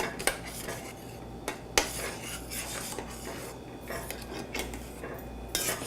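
Spoon stirring cornstarch into a blueberry mixture in a pan off the heat, steady scraping and clinking against the pan with a few sharper knocks, close and moderately loud, no talking.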